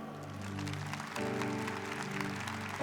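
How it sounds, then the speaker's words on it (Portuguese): Church congregation applauding during a Catholic sermon, fairly quiet clapping under a sustained organ or keyboard chord that shifts partway through. "Vamos aplaudir o perdão?"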